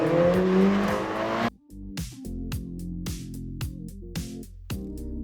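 A Ferrari Portofino launches hard in first gear, opening with a loud, dense burst of engine roar, then a sharp break into a series of rising, stepped engine notes with brief dips between them, close and unaccompanied by talk.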